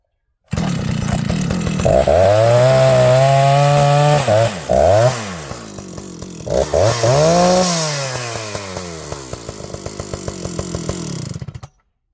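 A Jonsered 930 chainsaw with a suspected bad spark plug cuts into wood, its loud engine revving up and bogging down under load in several long pulls, then idling briefly before stopping.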